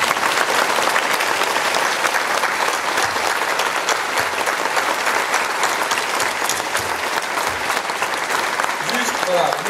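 A comedy club crowd at a stand-up show gives a sustained ovation, dense continuous clapping at steady loudness throughout, with faint cheering mixed in.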